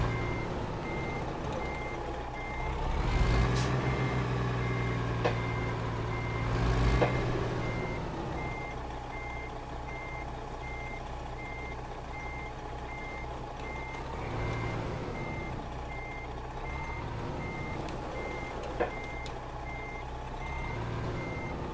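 A truck backing up in a trucking video game, hauling live cattle: a steady, repeating reversing beep over a low, constant engine hum, with a brief air-brake hiss near the end.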